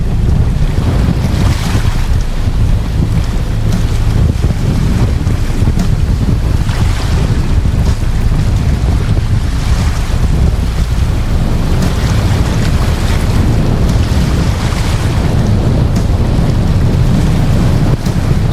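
Strong wind of around 30 roars steadily over a yacht during a storm in the Strait of Malacca, with waves surging around the hull in a loud, continuous rush that swells and eases at intervals.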